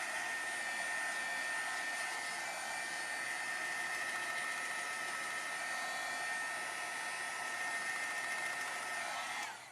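A heat tool blows a steady, even whirring hiss across the back of a handmade holiday tag colored with Inktense, running continuously for nearly ten seconds before cutting off, with no talking.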